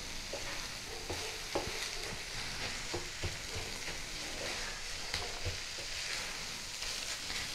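Cabbage frying in ghee with whole spices in a kadai, stirred with a spatula; steady close sizzle with scraping clicks of the stirring spoon throughout, no voices.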